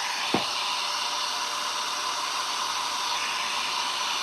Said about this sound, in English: I'm gonna come in with my heat gun and just dry the outside